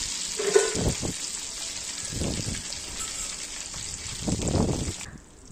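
Beef pieces for a beef kebab (koab) sizzle and crackle in hot frying oil as they are turned over, with three louder bursts of spitting, stirring sizzle over a steady background hiss.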